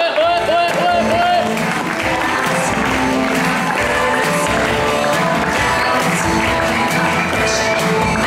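A crowd at a slam poetry contest claps in a dense, continuous wash with some cheers and a few sharp taps, loud and close throughout.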